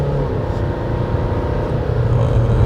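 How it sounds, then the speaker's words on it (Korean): A steady, low engine drone with road rumble from inside a moving Kia Sorento with an 8-speed automatic, holding an even level throughout with no talking. "잘 제어시킨 그런 엔진 사운드입니다"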